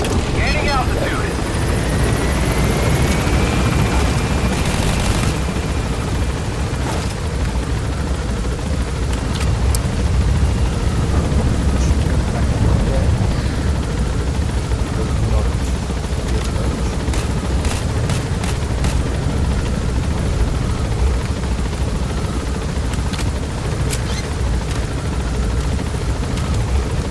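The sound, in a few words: helicopter taking off in video game Metal Gear Solid V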